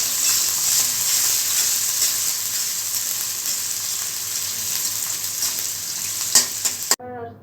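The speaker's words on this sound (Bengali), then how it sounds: "পেঁয়াজটা ভাজা করে নেব।" Chopped onion frying in oil with bay leaves and cardamom for pilau, a loud continuous sizzle with light stirring scrapes, cutting off abruptly near the end.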